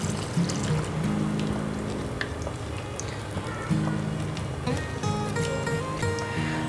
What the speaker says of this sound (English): Now I am going to add that water to this.